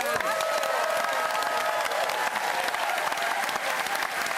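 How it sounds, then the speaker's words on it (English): Sustained applause from a large TV studio audience, steady and loud throughout, with a few faint voices mixed into the clapping. "a round of applause for Jan Preston."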